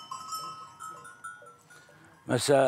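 Sheep from Bursa grazing on mountain pastures, with a loud close bleat bursting in at the end after a stretch of quieter tonal animal calls and faint bell-like ringing.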